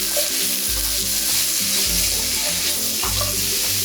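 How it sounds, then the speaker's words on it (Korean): Button, shiitake and beech mushrooms stir-fry in sesame oil in a pan over high heat, giving a steady loud sizzle with soft stirring scrapes throughout, no talking. "팬을 강불에 올려 참기름을 둘러주세요. 양송이, 표고, 망가닥 버섯을 볶아주세요."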